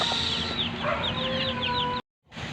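Free-roaming chickens cluck and chirp in short repeated calls in a vegetable garden over steady outdoor background noise, with a brief silent gap near the end.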